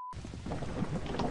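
Steady rain hiss with low rumbling thunder in the video game Lethal Company, a brief dense wash of weather noise after a short tone, with no speech.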